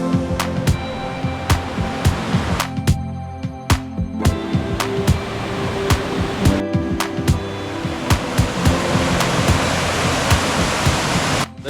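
Waterfall in Southern Cebu, a steady broadband rush of falling water that runs continuously throughout, fairly loud and close, with scattered sharp clicks and knocks over the roar and no voices.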